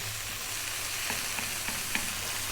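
Food sizzles steadily in a hot pan over above-medium heat, with a few soft clicks and scrapes of stirring breaking through the constant crackle.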